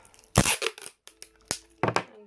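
Sellotape is torn with the teeth, giving several short, close crackling rips and sticky crinkles in quick bursts with brief pauses between, fairly quiet.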